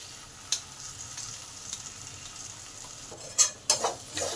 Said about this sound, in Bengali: এবার পোস্তটাকে ভালো করে আলুর সাথে কষে নেব।